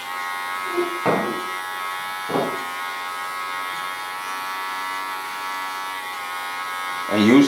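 Electric hair clippers buzz steadily and close by while shaving the side of a head, a constant high whine with brief changes in tone as the blade meets the hair. A voice talks softly beneath it.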